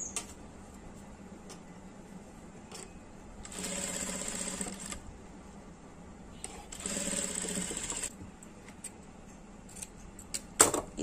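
Sewing machine stitching a belt money pocket on a blouse in two distinct running bursts of a few seconds each, with quiet handling noise between them and no talk.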